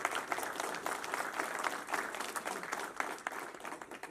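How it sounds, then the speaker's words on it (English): An indoor audience claps for a Korean War veteran at a Peace Medal ceremony, a dense, steady round of applause lasting a few seconds with no talk over it. "Let's have an applause for Clayton."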